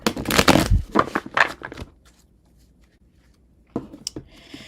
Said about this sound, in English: Shuffling for you.